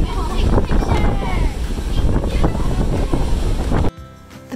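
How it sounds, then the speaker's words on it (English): Strong wind buffets the microphone in a loud, continuous roar with rushing water beneath, then drops away abruptly near the end, on a ferry deck crossing from Larne, Northern Ireland to Cairnryan, Scotland. "It's very windy."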